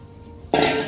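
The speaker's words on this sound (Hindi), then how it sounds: "अब इसमें पानी डालेंगे।" Water is poured into a cooking pot of rice and green chickpeas for pulao, a loud, close, steady rushing splash that starts abruptly halfway through after a quiet kitchen hum.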